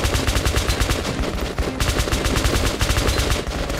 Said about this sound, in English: I don't know what I'm shooting